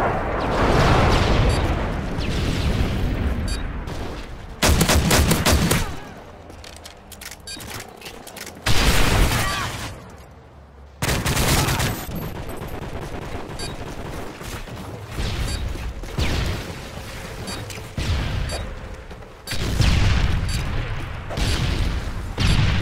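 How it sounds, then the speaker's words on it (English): Heavy airstrike explosions and bursts of gunfire from Call of Duty: Modern Warfare 3 in a team deathmatch on the Resistance map, loud booms and rattling volleys repeating throughout with brief lulls between. "Friendly airstrike on the way."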